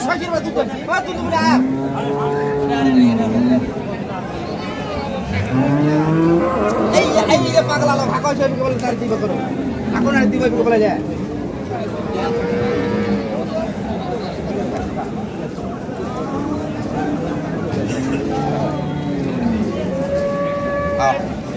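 Cattle and calves moo repeatedly at a market, long drawn-out calls rising and falling, over a busy background of crowd chatter and people talking nearby.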